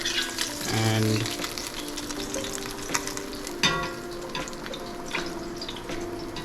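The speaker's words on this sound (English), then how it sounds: "we'll fry off the potatoes" Potatoes frying in very hot oil for the Bengali dish muri ghonto, a steady close sizzle with occasional stirring clatter and a faint tonal hum underneath.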